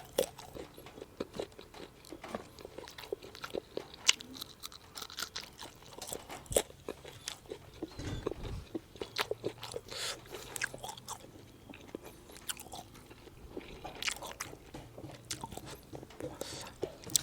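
Someone bites and chews fresh chili and garlic alongside a large lump of fermented pork sausage (mam), with close crunchy bites and wet chewing scattered through the clip and brief murmured speech between mouthfuls.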